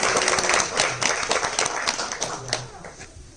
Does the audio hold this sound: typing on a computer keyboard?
no